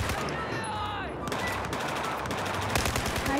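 Rapid gunfire in the video game Battlefield 4 campaign, dense bursts of automatic shots and crackling reports filling the mix, loud and continuous, with the game's voices and effects underneath.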